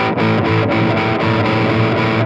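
An electric guitar plays through a Line 6 Catalyst 60W combo amp with a heavy, distorted pitch-harmony effect adding an octave below, thickening each note, sustained chords changing in a steady rhythm.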